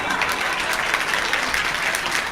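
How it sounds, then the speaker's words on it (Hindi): Girls in the audience of a televised comedy mushaira applaud loudly, a dense, sustained patter of many hands clapping close by without pause. "और लड़कियों की तालियां आनी चाहिए"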